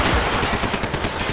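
Rapid bursts of gunfire in the shooter game Max Payne 3, loud and close, a dense rattling volley of overlapping shots filling the short moment without pause.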